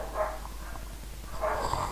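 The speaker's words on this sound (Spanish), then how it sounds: "Se escuchan mucho los perros, hacen mucho ruido en el micrófono" Outdoor dogs bark at a distance, caught indoors by a microphone: two muffled barking bursts, one at the start and one near the end, over a constant low electrical hum.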